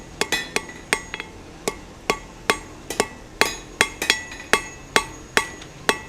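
A hammer strikes a square taper on the edge of an anvil in a steady series of sharp, ringing metallic blows, some quick doubles, close and loud with no talk.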